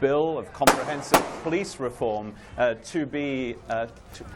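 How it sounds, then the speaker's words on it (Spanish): Two sharp, loud gunshots fired from a vehicle crack in quick succession near the start, while a person keeps talking over and after them. "lo que suenan son disparos que procedían de un vehículo que luego huyó del lugar"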